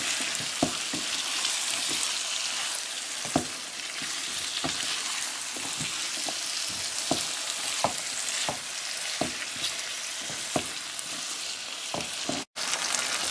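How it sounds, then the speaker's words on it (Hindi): Potatoes fry in a spiced masala for aloo gobi, giving a steady close sizzle broken by regular sharp scrapes and taps of a spoon stirring the pan. "आलू डाल के 2-3 मिनट के लिए भुनाई करेंगे"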